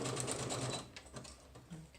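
A sewing machine runs a rapid zigzag stitch along the edge of a junk journal, a close mechanical rattle that stops, then quieter clicks and short bursts of handling follow.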